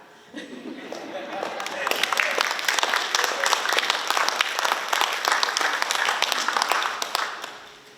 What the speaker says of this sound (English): I was hoping you would clap.